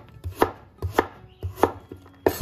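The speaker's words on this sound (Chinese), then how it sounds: "然后啊再给它切成薄薄的厚片" A knife cuts through peeled pumpkin into thin slices, four sharp, evenly spaced chops on a cutting board, close and clear with no talking.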